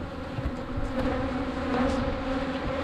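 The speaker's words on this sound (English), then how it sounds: "There's a decent amount of bees in this hive." Honeybees in a strong colony of nearly two boxes, getting ready for almond pollination, fill the air with a steady, dense buzz close by, and nobody speaks.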